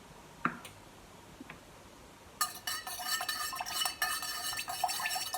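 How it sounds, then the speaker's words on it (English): Stirring candle wax in a container at home: a dense run of scraping, clinking taps starts partway through and carries on steadily to the end, close and fairly loud, after a couple of isolated knocks in a quiet room. "Give it a stir."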